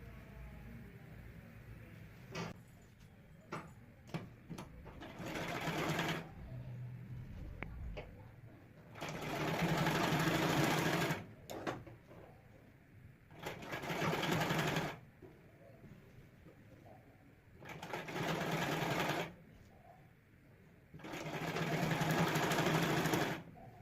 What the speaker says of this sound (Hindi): इसकी किनार पर सिलाई लगा दूंगी।